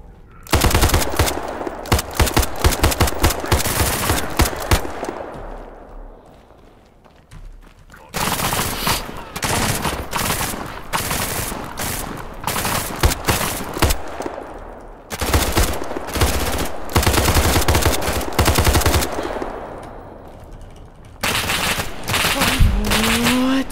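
Gunfire in SCP:5K, long loud bursts of rapid automatic fire broken by short lulls, with a voice speaking between the volleys.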